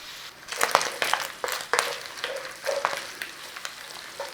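Onions, mushrooms and garlic fry in a pan for a pub-style country dinner, giving an even close sizzle with crackles and the scrape of stirring at a loose rhythm.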